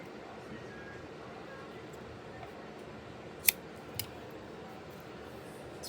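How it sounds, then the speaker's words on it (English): Scissors snip a crochet yarn tail twice, two quick close cuts over a faint room hiss. "grab your scissors and snip like a pretty long tail"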